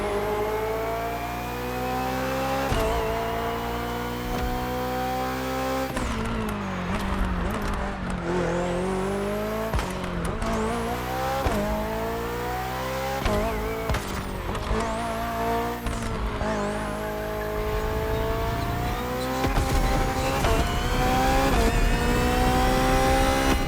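A BMW hybrid V8 race car in The Crew Motorfest revs hard and holds a loud, sustained engine note through repeated gear changes and throttle lifts, with brief tire squeals, close and continuous with no talk.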